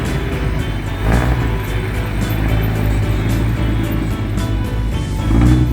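A six-cylinder vehicle engine runs close by with a loud, steady rumble. A few light rev blips rise above it and a stronger one comes near the end.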